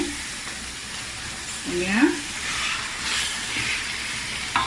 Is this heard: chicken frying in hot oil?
yes